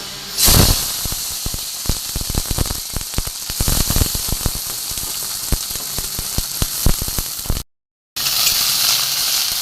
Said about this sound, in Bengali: এগুলো আমার তেল গরম হয়ে গেছে, এগুলো আমি প্রথমে ভেজে নেব।